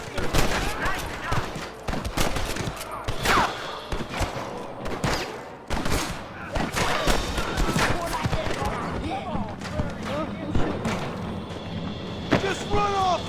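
A gunfight with rustlers in a canyon in the Red Dead Redemption video game: repeated close and distant shots crack in an irregular volley over about thirteen seconds, mixed with shouting and other game sounds.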